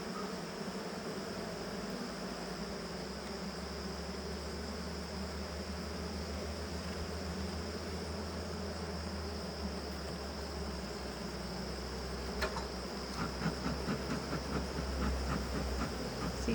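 Honey bees hum during an August hive inspection as brood frames are checked, a continuous, even drone with faint clicks and taps near the end and no voices.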